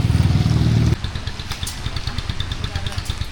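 A Honda ADV 175 scooter engine putters at a rough, uneven idle after a brief louder low rumble at the start.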